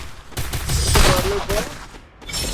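Rapid bursts of gunfire in a shooter video game crackle almost continuously over a brief pause, with voices talking underneath.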